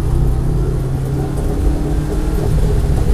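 Rally car engine rumbling steadily as the driver eases gently back onto the throttle, a close, loud, low drone with no talk over it.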